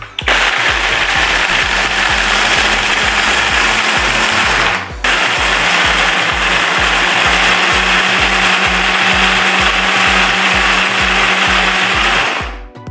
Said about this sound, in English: Definitely a recommended blender.